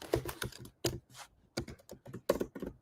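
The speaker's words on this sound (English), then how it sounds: "I'm typing YMCMB in the thing." Bursts of quick key clacks on a computer keyboard, a few clustered strokes separated by short pauses, close and fairly quiet.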